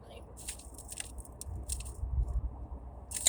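Jalapeno potato chips from Subway crunched and chewed up close, a quiet run of crisp bites and mouth noises, with no talk.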